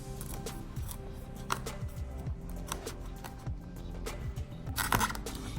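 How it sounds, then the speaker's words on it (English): A sharp knife saws and crunches through the tough top of a spaghetti squash, with irregular scraping cuts, small clicks and a louder crunching snap near the end, close and alone. "The very first thing we need to do is cut off the top."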